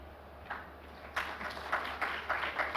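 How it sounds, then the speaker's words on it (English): Conference audience applause, faint and distant, starting as scattered claps and swelling into a light, uneven round of clapping. "Thank you for the applause"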